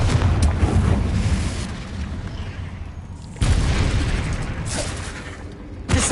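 Confringo fire spell explosions in the Hogwarts Legacy video game: loud booming blasts, a rumbling one at the start, a sudden heavy burst around three and a half seconds and another at the end, no speech.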